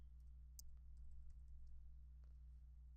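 Someone types on a computer keyboard, producing faint, scattered key clicks over a low steady hum in a quiet room, with no talking.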